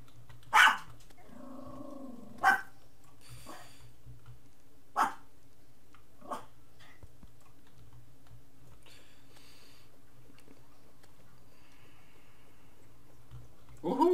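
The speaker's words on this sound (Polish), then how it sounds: "Nie szczekaj, Fofik." A dog barks a few sharp, separate times at uneven intervals nearby, over a quiet room hum with faint ticking, while a person speaks briefly.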